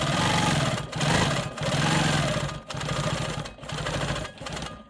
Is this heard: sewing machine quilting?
yes